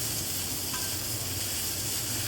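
Drumstick-leaf greens (sojne shak) being turned with a spatula in a pan, giving a continuous close sizzle and hiss with faint stirring scrapes throughout.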